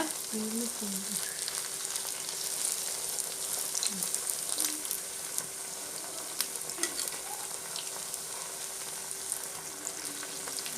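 Aval kadalai maavu thattai, flat rice-flake and gram-flour crackers, deep-frying in hot oil, giving a steady close sizzle with scattered small pops and crackles throughout, no talk.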